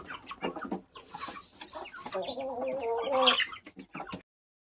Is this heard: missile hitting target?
no